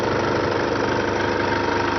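A Toyota Hilux engine idling steadily, heard up close under the open bonnet as a dense, even rumble with a faint rhythmic knock and no pauses.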